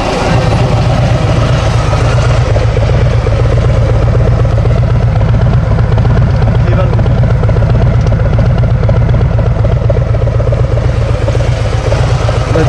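A 2021 Harley-Davidson Street Glide Special idles with its exhaust valves opened, a loud, steady, deep rumbling drone that holds unbroken throughout with a dense low-end throb.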